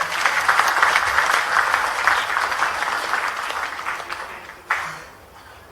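An audience at a political speech by a chief minister claps in a dense burst of applause that gradually thins and fades out.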